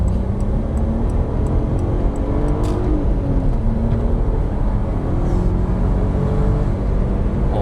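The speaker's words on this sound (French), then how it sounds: "Ce que j'aime bien avec ce moteur, c'est que ça prend les tours de fou." A Volkswagen R32/R36 engine revs hard as the car accelerates, a loud, steady drone that climbs in pitch from inside the cabin, with no talk.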